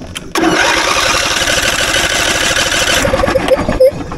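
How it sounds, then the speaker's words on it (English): A heavy equipment engine cranks over steadily on an Andeman jump starter, a loud continuous whirring churn that runs for about three seconds before tapering off with a few uneven final turns. "I'm cranking this thing over a lot"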